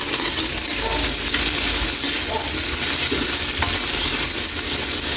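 Sautéed tomato and green chili are stirred in a pan, a loud, steady sizzle with scraping stir strokes throughout, close and with no talking.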